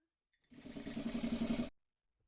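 A sewing machine runs in one short, steady burst of about a second, its needle chattering rapidly while top stitching the bodice of a dress, then stops.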